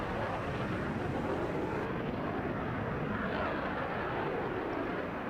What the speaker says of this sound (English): And they use the FA-18 fighter to its full aerobatic capabilities.